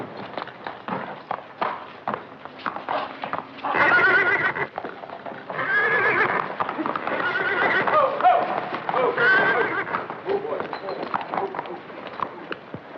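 A horse in a 1944 western film neighs and whinnies in several loud bursts while hooves clop rhythmically nearby, with people talking between the calls.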